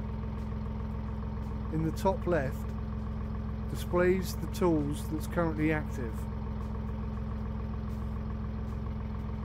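A tractor engine idles in the video game Farming Simulator 19 as a low, steady mechanical hum with a constant tone throughout, while someone speaks briefly over it.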